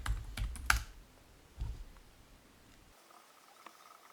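Password keys tapped on a computer keyboard, a quick burst of close clicky keystrokes followed by one or two softer taps, then quiet.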